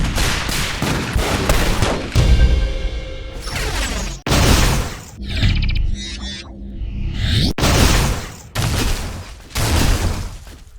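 Booming shotgun blasts from the Flak Cannon in the video game Unreal Tournament 3 fire loud and close in a quick series. Short pauses separate the shots, which are broken by metallic reload clatter.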